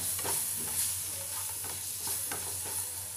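Tomatoes and Kashmiri chili powder are stirred in a hot pan, giving a constant, bright sizzle with soft, repeated scraping strokes of a spoon underneath, close but fairly quiet.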